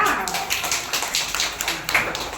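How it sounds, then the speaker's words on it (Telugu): Applause for the rangoli contest prize winner at a school parent-teacher meeting, scattered, uneven hand clapping from a small gathering, with voices talking over it. "క్లాప్స్ కట్టండి అప్పట్ల."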